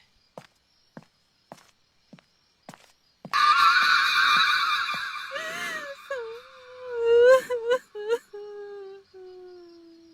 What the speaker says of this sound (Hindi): कहीं पास से रोने की आवाज आई, धीमी, टूटी हुई,